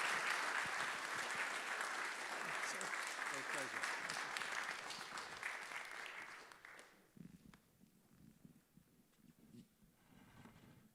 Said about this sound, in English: please give a huge round of applause to Dr. Bruce Jarrell from the University of Maryland, Baltimore, and our colleagues from the Shore